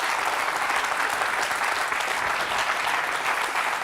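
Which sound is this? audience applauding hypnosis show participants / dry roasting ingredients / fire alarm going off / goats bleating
audience applauding hypnosis show participants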